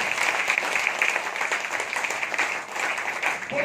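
An audience at a church gathering applauds, a dense, continuous wash of clapping that holds steady for the whole stretch without letting up.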